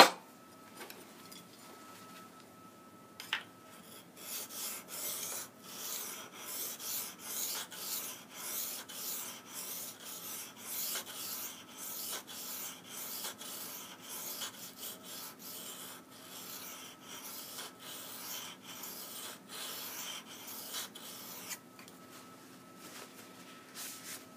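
Sears lawn shears are stroked against the finer side of a sharpening stone, giving a steady series of soft, rhythmic scraping rubs, close but fairly quiet, with a faint steady hum behind.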